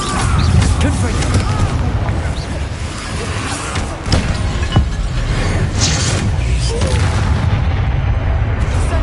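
Fiery Confringo spell blasts from Hogwarts Legacy boom and crackle in a dense, continuous combat mix, with repeated impacts over a spoken incantation.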